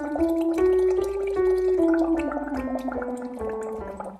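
A voice sings a descending vocal scale through a straw into water, the bubbling forming a steady gurgling buzz under the sung pitch, close and loud throughout with no spoken words.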